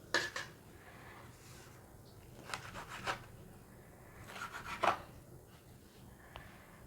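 Knife slicing through pieces of egg adai on a board or plate, a few soft scraping cuts and light clinks of metal at close range, quiet and intermittent.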